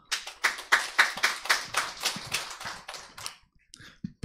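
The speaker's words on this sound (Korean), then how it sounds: "박수를 칠 때 좀 뜨겁게 박수 쳐주면 안 될까요?" Warm applause from a congregation welcoming guests at a church supper, a steady burst of many hands clapping for about three seconds before trailing off into a few scattered claps and a faint thump.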